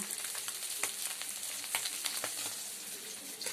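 Fish frying in a pan, a dense continuous crackling sizzle with scattered sharper pops, close and steady, with no speech.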